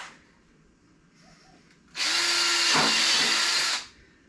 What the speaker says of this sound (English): Now I'm drilling multiple holes here